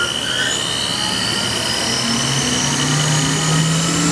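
A Haas VF-3 vertical machining center spins its spindle at 10,000 RPM, giving a loud, steady high-pitched whine and hum with rising tonal layers, continuous throughout with no speech.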